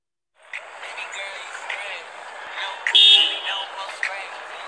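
Car horn honks several times in short toots amid voices and background noise, with one louder blast in the middle.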